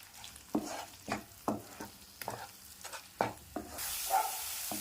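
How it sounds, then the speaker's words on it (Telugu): Chicken curry masala fries in hot oil in a home kitchen, a soft continuous sizzle broken by repeated scraping stirs of a spoon in the pan, about eight strokes at an uneven pace, quiet and close. "ఇదంతా మనకి ఆయిల్లో ఫ్రై అయితే మనకి టేస్ట్ చాలా బాగుంటుంది"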